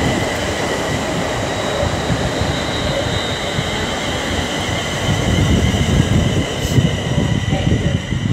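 British Rail Class 350 electric multiple unit passing through Rugby station on the West Coast Main Line, a loud steady rumble and rush of wheels on track throughout, with a faint voice underneath.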